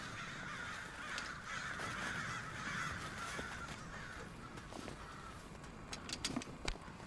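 Birds cawing in the video game Death Stranding, a hoarse crow-like calling spread over a steady background wash, moderately faint, with a few sharp ticks toward the end and no speech.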